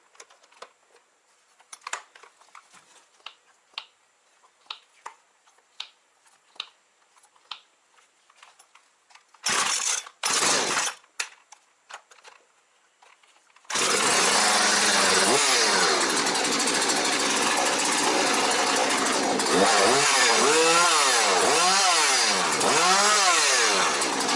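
A Husqvarna 240 chainsaw with a starting problem: several pull-cord rattles, a brief sputtering catch, then the engine fires and runs loud and steady close by, revving up and down.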